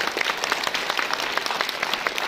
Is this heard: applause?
yes